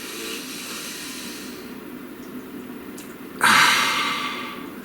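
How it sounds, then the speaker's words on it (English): A single deep inhalation during a guided meditation, a soft breathy rush that swells suddenly partway through and fades gradually, close and alone with no talk. "Please, take a nice deep breath."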